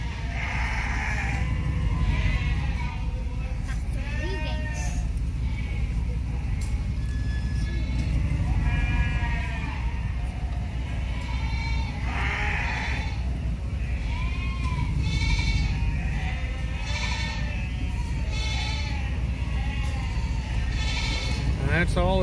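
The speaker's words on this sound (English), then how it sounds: "There's one thing about the sheep, they don't like to get going." Lambs bleating repeatedly while being loaded onto a livestock trailer, many overlapping calls near and far over a low rumbling background, with someone talking throughout.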